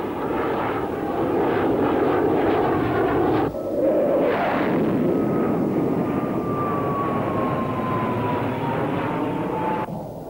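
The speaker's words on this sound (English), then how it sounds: "Somewhere in that airspace, F-15s peel off for an interception." F-15 fighter jets fly overhead with a loud, continuous engine roar that fills the clip. A high whine slowly falls in pitch as the jets pass, and no one speaks.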